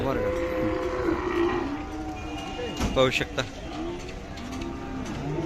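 A calm Khillar cow at a Sangola cattle market lets out drawn-out lowing moos, close by, while someone talks over them and market noise carries in the background.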